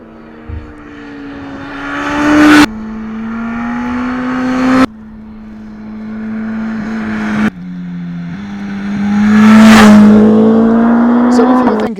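A 2022 Suzuki GSX-S 1000GT sport tourer motorcycle engine revs repeatedly, each loud rising surge building over a couple of seconds and cutting off sharply, with one long smoother pull, heard up close.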